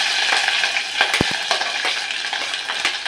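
Green chillies hit hot oil already crackling with mustard seeds and cumin, giving a steady close sizzle with a couple of sharp spattering pops and faint utensil stirs; no voices.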